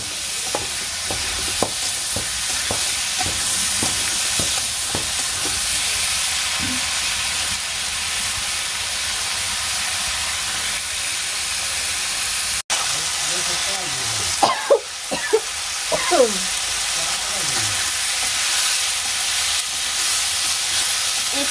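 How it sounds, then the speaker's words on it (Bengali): Vegetables being stir-fried in a pan, with a continuous loud sizzle and hiss broken by scraping spatula strokes, while a person talks over the cooking. "আমার সবজি কষানো হয়েছে"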